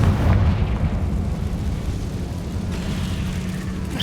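Confringo fire spell blast in Hogwarts Legacy, cast in the catacombs: a deep, rumbling explosive boom that swells at the start and then rolls on as a steady low roar for several seconds.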